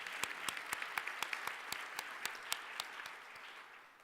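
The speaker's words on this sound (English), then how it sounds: "Let's give him another round of applause." Audience applause at a leadership excellence award ceremony, a crowd clapping steadily with a few sharp individual claps standing out, heard from a distance and fading slightly toward the end.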